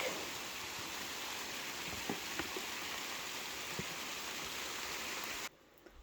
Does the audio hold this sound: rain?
yes